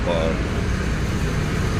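Air conditioning running inside a 2020 Hyundai Accent with an aircon problem, a steady broadband fan whoosh and hum filling the cabin, close and continuous without pause.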